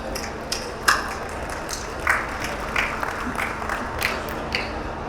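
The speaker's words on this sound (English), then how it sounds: "Huge round of applause, everybody." Applause from a panel discussion audience, light scattered clapping with a few sharper claps standing out, moderately distant, with a faint steady hum underneath.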